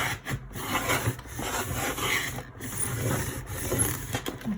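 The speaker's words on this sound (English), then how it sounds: "So I'm going to cut this flap" Cardboard flap from Amazon packaging being cut, giving a steady close rasping, rubbing scrape that runs almost without pause, with brief breaks and no voices.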